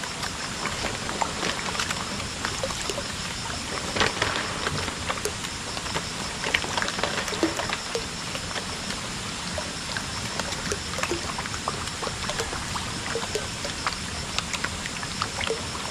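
Strong flow of water pouring into a koi pond, a steady broadband rush and trickle that continues unbroken and fairly close, with no voices.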